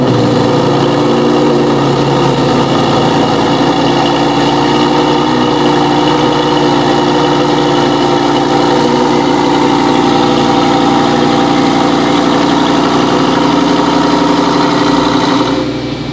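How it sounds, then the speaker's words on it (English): A 2022 Lamborghini Aventador STO's V12 engine idles loud and close, a steady, deep rumble with a buzzing mechanical edge that holds unbroken for the whole stretch, easing slightly at the very end. "fire up the brand new STO engine. See what this puppy sounds like"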